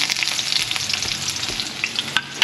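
Bitter gourd sautés in a hot pan with a steady, close, crackling sizzle and a few stirring scrapes, with no talking.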